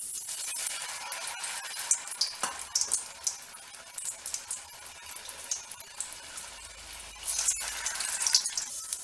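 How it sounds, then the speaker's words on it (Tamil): Noodle cutlets deep-frying in hot oil give a close, steady crackling sizzle with scattered bright pops and spits throughout; no one speaks. "இந்த எண்ணெயில் பொரிச்சு எடுத்துடலாம்."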